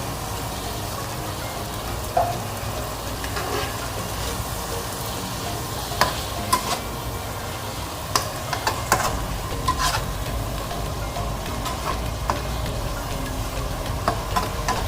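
A stir-fry of bacon, Vietnamese pork sausage, minced pork and shrimp with holy basil and century egg sizzles steadily in a hot pan after a little water is added, with scattered scraping clicks of a spatula stirring throughout.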